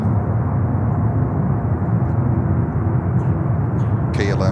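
A KLM Boeing 787-10 at JFK airport produces a low, steady engine rumble close by, holding at an even level, with a short burst of voice-like sound at the very end.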